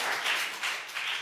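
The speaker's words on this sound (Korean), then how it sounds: "자 박수 감사합니다." A short burst of applause from a church congregation, steady and fairly close, with no voices.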